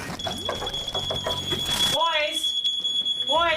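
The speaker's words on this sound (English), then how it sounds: "Boys, do you hear the fire alarm?" A smoke alarm holds a continuous high, piercing electronic tone throughout, loud and steady, while people talk over it in the first half and a voice carries on beside it afterward.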